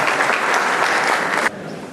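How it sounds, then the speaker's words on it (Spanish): Audience at a university law faculty conference applauding a speaker's introduction, a dense steady clapping from a full room that cuts off abruptly near the end, leaving quieter room noise. "Nuestro aplauso para el doctor Antero Pedro Flores Arauz Esparza"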